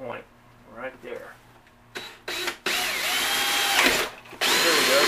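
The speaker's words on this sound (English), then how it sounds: "And we're just drilling the holes." A power drill bores holes through a cooler's foam-insulated shell for a Bluetooth boombox build, in several loud, sustained whirring bursts that start and stop, with brief quiet gaps between runs.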